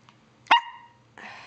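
A puppy gives one sharp, high bark, followed a moment later by a short breathy huff, otherwise quiet.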